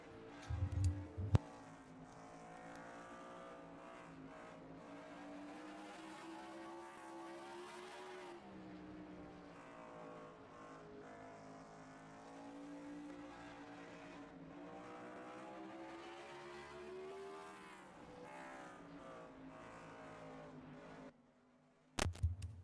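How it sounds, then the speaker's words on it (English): On-board engine of race car number 45 at Canandaigua, held at a steady roar whose pitch climbs and dips as the throttle is worked through the lap, with brief louder bangs at the start and end. "we're actually going to go on board with the 45 as this lap he will get to hear the throttle"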